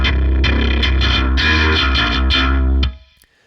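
Bass guitar through a Darkglass B7K distortion model on a Fractal Axe-Fx, blended at a 50% clean-dirty mix, playing a loud, gritty riff of several sustained notes that stops abruptly near the end.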